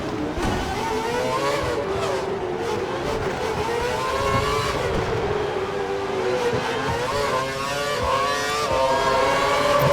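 Formula One race car engines roar and whine continuously in the video game F1 2012, with rising and falling pitch as they accelerate, loud and steady throughout.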